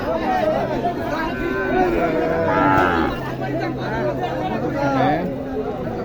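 Cattle moo loudly and repeatedly at a busy cattle market in Mahadevpur, Naogaon, with long low calls rising over constant crowd chatter and people talking nearby.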